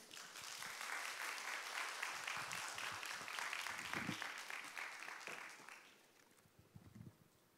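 A Korean church congregation applauds at a family worship service, with steady, dense clapping that fills the room for about six seconds and then fades to scattered claps and rustling.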